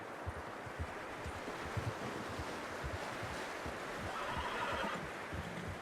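A horse in Red Dead Redemption 2 gives a faint whinny against a steady wash of wind and outdoor ambience, with no voices.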